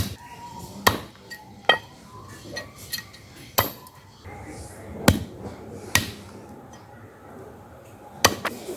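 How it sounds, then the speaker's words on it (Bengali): Cow trotters are chopped into small pieces, sharp heavy knocks of a blade striking bone and board landing at irregular intervals, close and loud, with faint clinks between strikes. "বন্ধুরা দেখতে পাচ্ছেন কত সুন্দর করে কাটছি"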